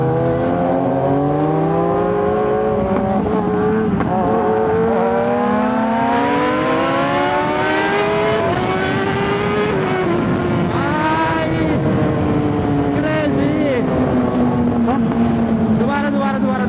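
A Kawasaki ZX-10R sport bike races along a highway at night, its engine revving loud and steady with rising and falling pitch as it accelerates and shifts. Another engine whines alongside and wind rushes past throughout.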